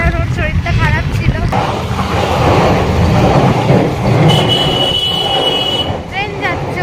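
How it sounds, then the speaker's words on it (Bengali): A train rumbles past on an elevated line overhead near a street market, a broad continuous roar heard up close with people talking beneath and around it. "ট্রেন যাচ্ছে ওপরে"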